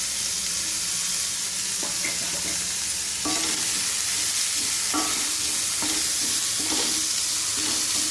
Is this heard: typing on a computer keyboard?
no